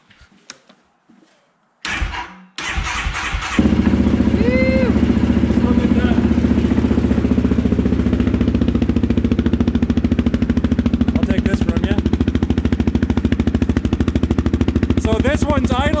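A 2019 Can-Am Outlander 650 XMR ATV with a weak battery and a Yoshimura slip-on exhaust cranks briefly, catches and settles into a loud, steady, rumbling idle close by.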